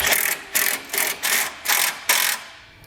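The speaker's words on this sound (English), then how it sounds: "We'll come back with a 9/16 socket and snug up all of our 3/8 hardware." A socket ratchet snugs 3/8 hardware with a 9/16 socket on a Blue Ox base plate being fitted to a 2014 Chevrolet Malibu: five quick, close bursts of clicking ratchet strokes with short pauses between, no talking.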